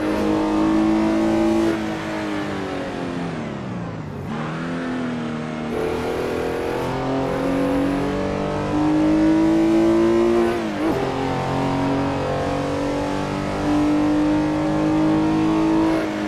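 A Porsche 906 E race car in Assetto Corsa, lapping a 1960s-era historic track, its engine howling loud and close, climbing through the gears with sharp drops on each shift and braking.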